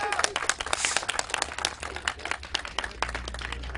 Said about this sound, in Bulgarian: Аплодисменти за Петър Петров, Ямаха.